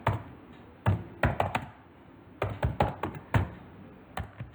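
A computer keyboard is typed on in short clusters of crisp, close key taps separated by brief pauses, with no talking.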